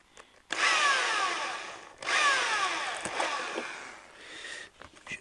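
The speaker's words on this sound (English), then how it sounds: "Bit more drilling." A power drill whines steadily through material in two long runs, with a brief pause between and a short tapering end.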